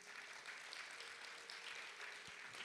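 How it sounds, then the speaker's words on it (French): A church congregation applauds during a sermon, a faint, even wash of many hands clapping, heard alone and somewhat distant. "Donnez-vous une bonne main d'applaudissement."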